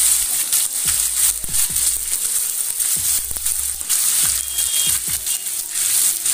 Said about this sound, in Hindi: पहले मैं चिकन जो है वो बोन वाले डाल रही हूँ। थोड़ा सा फ्राई करते हैं इसको।